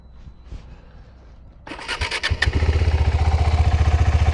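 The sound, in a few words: KTM 390 Adventure motorcycle engine starting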